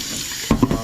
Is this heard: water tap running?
yes